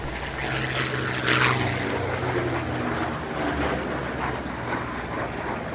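A Sea Fury propeller aircraft taxis with its engine at ground idle, a steady, loud, rumbling drone close by, holding even throughout with a slight swell early on and no voices.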